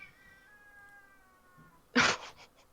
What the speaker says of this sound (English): Is it the cat in the background? That cat sounded so desperate.